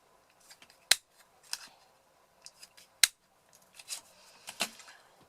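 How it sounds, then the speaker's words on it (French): A handheld 3/8-inch circle paper punch cutting small paper circles, with two sharp, loud snaps about two seconds apart and scattered softer clicks and paper rustles between them, close by and without talk. "deux petits cercles et deux petits cercles avec ma perforatrice 3/8"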